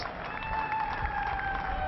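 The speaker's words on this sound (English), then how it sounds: "Will be applauded by his teammates." Crowd applause at a Pakistan vs Afghanistan ODI cricket match, greeting Gurbaz's half century, a steady wash of clapping and cheering from a distant stadium crowd under a constant broadcast hum.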